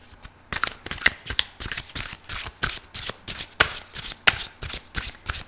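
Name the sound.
tarot cards being shuffled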